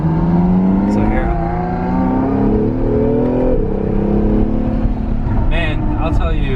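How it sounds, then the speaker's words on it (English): An Acura NSX launches hard under launch control, its engine note climbing steeply through the revs with audible gear-change drops, loud and close from inside the cabin while people talk and exclaim over it. "that launch control is pretty serious"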